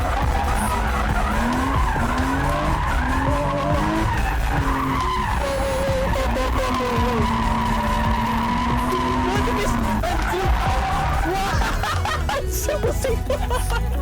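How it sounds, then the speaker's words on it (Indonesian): A drift car skids through a long slide on a short track, tires squealing in sustained wavering howls over a steady engine roar, loud and close, with brief laughter near the end. "Jadi kita mau ngedrift"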